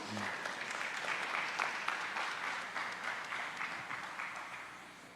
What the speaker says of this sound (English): give a nice round of applause again